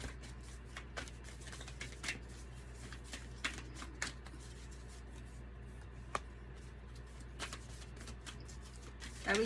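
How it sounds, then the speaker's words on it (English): Tarot cards shuffled by hand during a reading, with soft riffling and repeated papery flicks coming in irregular bursts over a low steady hum, close and fairly quiet. "I be trying to shuffle on camera."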